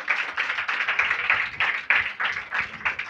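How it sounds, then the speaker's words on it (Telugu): A church congregation claps hands in a steady, repeated rhythm, fairly close and even, with no talking over it. "చప్పట్లు కొట్టండి."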